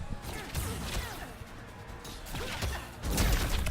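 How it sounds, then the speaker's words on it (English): A Mortal Kombat fighting game grand final, with a max-range dash punch landing amid sharp game impacts and whooshes, layered under crowd noise and a caster's excited commentary. "Max range dash punch."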